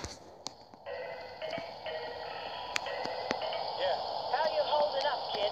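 A phone rings in the game Gangstar Vegas, a repeating electronic ringtone sounding over background game noise and clip-clop ticks, with someone speaking French over it.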